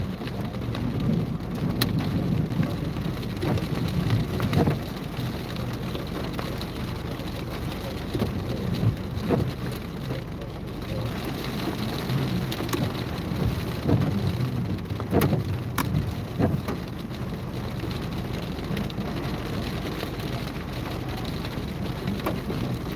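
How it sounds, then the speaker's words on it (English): Steady rain with rolling thunder during a West Central Texas supercell storm, a continuous wash of rainfall over low rumbles that swell and fade, with occasional sharper cracks. "Everybody good sleep listening to the rain and the lightning and the thunder."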